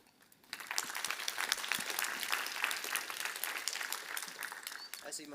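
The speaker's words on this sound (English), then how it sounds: "I see most of you are still going with the clapping option." Applause from an audience after a talk breaks out and holds steady as dense, continuous clapping, with a voice faintly audible near the end.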